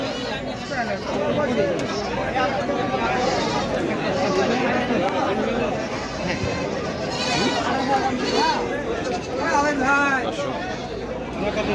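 Goats bleat repeatedly amid the steady chatter of a crowded livestock market at Baneshwar, their calls rising over constant murmuring voices throughout.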